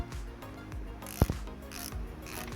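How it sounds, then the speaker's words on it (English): A size 7 Allen key turning a front brake caliper bolt on a 2008 Mazda 3 gives a sharp ratcheting click and a couple of metallic knocks in a short burst, close and otherwise quiet. "we're going to take this bolt off here, this one off here. It's the Allen key."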